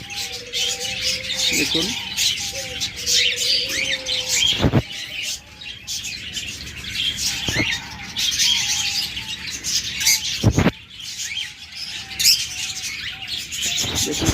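Pet budgerigars, cockatiels and lovebirds chirp and tweet in a crowded aviary, overlapping calls with repeated whistled notes and occasional squawks, close by, while someone talks over them.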